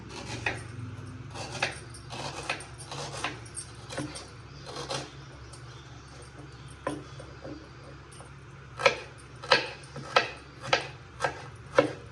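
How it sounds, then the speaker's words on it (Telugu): A knife chops onions on a board with sharp, irregular knocks, widely spaced at first and then a quicker run of louder cuts near the end, over a low background hum. "ప్రస్తుతానికి ఉల్లిపాయలు కోసుకుంటున్నా"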